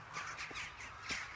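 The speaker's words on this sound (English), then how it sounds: "Dang birds." Crows caw in the video game Kingdom Come: Deliverance, several harsh calls spaced across a short stretch at moderate distance, set against a quiet ambient backdrop with no talking.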